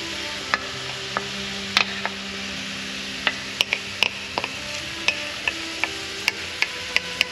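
Sharp ticks and crackles pop irregularly over a steady hiss, close by, like a meat mixture frying in hot olive oil in a pan, with occasional stirring clicks.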